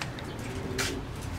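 Pigeons cooing at a pigeon loft during feeding, a soft low coo within steady background noise with a brief rustle of wings partway through.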